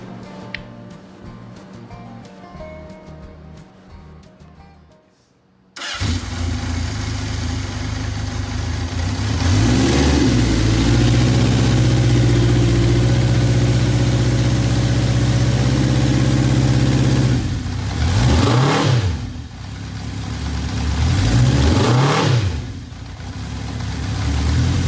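A Honda motorcycle with a fully overhauled, repainted engine, rebuilt carburetor and aftermarket muffler sits quiet at first, then fires up into a steady, close idle and gives two or three sharp revs near the end.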